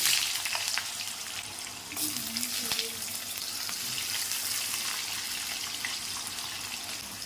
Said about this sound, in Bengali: এই মাছ ভাজার তেলে দিয়ে দেবো আমি কাঁচা কলা, লম্বা লম্বা করে কেটে নিয়েছি, আর দেবো আলু।